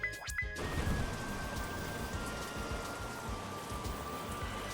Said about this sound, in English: Thunderstorm sounds so violent.